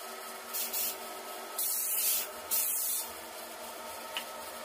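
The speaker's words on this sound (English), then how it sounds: "now I'm going to go ahead and go through and put on the CA finish" CA finish is rubbed onto a wood burl turning slowly on a lathe, heard as soft bursts of hissing friction over a faint steady lathe hum.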